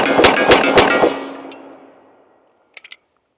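Springfield TRP 1911 .45 pistol firing four loud, close shots in quick succession, the echo fading away afterwards, then a brief metallic rattle of two or three clicks.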